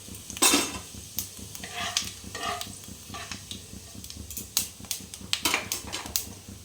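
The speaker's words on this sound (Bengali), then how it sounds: "এখানে আমি মুড়িটা দিয়ে দিচ্ছি ফোড়ানোর জন্য।" Puffed rice tempering with bay leaf and dried chilli in hot oil in a home kitchen pan, crackling and sizzling close by while a spatula clinks and stirs in irregular bursts.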